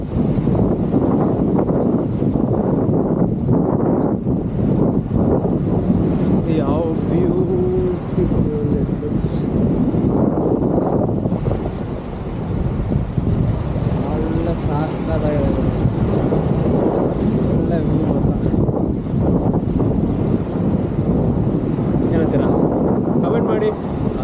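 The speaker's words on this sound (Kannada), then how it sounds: "ನಾನೇ ಹರ್ಕೊಂಡು ಹೋಗ್ತೀನಿ ಅನ್ಸುತ್ತೆ, ಅಷ್ಟೊಂದು ಗಾಳಿ ಇದೆ" Strong wind blows hard at an open scenic viewpoint, a constant low roaring buffet that never lets up, with people talking throughout over it.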